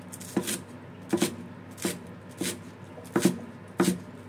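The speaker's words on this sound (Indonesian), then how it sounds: "kemudian kita potong ya" A knife cutting eggplant on a board in a home kitchen, six or so crisp, evenly spaced chops, close and clear with no voices.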